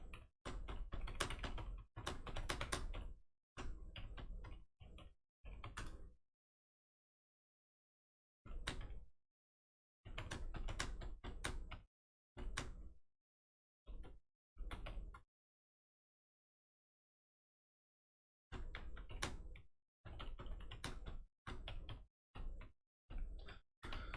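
Bursts of rapid typing on a computer keyboard, close and crisp, broken by several long silent pauses between flurries of keystrokes.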